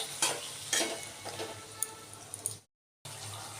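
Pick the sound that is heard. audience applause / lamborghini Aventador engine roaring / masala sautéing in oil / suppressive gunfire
masala sautéing in oil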